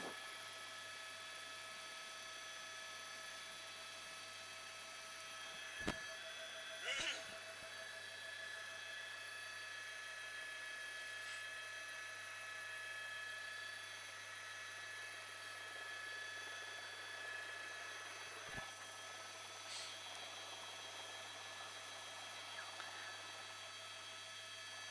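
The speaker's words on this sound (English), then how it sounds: "that helicopter is still applying pressure even with the night sun off" Police helicopter hovering over a night-time car chase through residential streets in Panorama City, a steady droning rotor hum with faint whining tones running continuously throughout, with a few brief sharp clicks and no voices.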